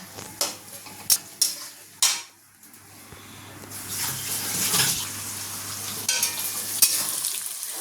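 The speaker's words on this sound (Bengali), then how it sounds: "টমেটোটা দিয়ে ভালো করে একটু ভাজা ভাজা করে নিই" Tomato frying in a pan for muri ghonto, opening with a few loud clanks of a utensil, then a rising wet sizzle and bubbling that grows steadily, punctuated by occasional stirring knocks, without speech.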